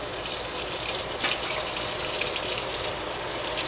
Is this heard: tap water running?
yes